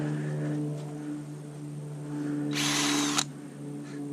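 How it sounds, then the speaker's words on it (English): Cordless power drill boring a tap hole into a sugar maple on a farm at the start of maple season, a loud broadband whine for about a second near the end, set against steady low engine hum. "Drill."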